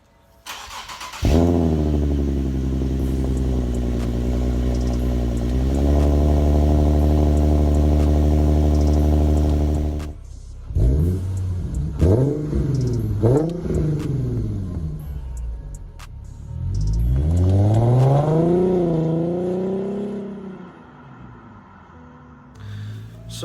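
A Nissan 370Z fitted with test pipes and a Gemini exhaust starts up and settles into a loud, droning idle, then is blipped through several sharp revs and one longer rising and falling rev, close and raspy.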